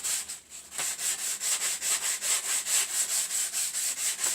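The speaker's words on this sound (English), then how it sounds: "whilst I continue sanding this" A wargaming terrain piece, shaped like smooth sand dunes, is hand-sanded in quick regular back-and-forth strokes, a close, rhythmic rasping with no talking.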